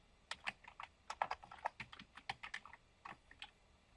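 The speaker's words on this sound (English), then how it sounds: "I'm just going to type" A web address being typed on a computer keyboard: quick, irregular bursts of crisp key clicks, close and fairly quiet, with short pauses between groups of keystrokes.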